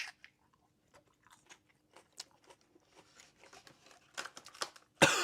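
Someone bites and chews spicy peppers, with a string of sharp crunches and wet chewing bursts that build toward a louder crunch at the end, close and with no talk.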